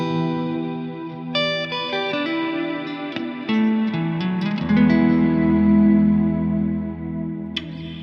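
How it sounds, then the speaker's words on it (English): An electric guitar runs through a Strymon NightSky reverb pedal, with plucked notes and chords blooming into a lush, washy ambient tail that swells and sustains, played alone and close. "I dialed in an ambient guitar reverb sound that I really like"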